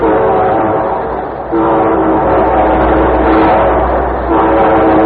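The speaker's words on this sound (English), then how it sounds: "And here comes our star-studded show train." A loud train rumbles close by as its horn sounds a long, steady chord that dips briefly and then carries on.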